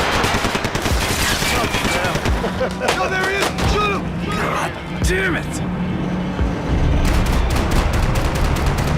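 Gunfire from the Max Payne 3 video game: repeated bursts of automatic shots and loud cracks ring out in rapid succession over engine-like rumble, with people shouting throughout.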